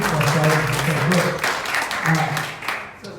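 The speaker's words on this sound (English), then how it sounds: "let's give her a round of applause" An audience applauds at a health talk on skin problems; steady, fairly loud clapping runs throughout while a voice talks over it.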